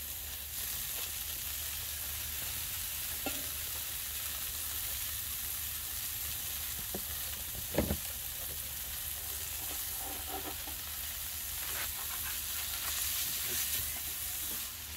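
Sweet potato fries sizzle on a hot Blackstone griddle with a steady, quiet frying hiss, broken by a few scrapes and a sharp clatter midway.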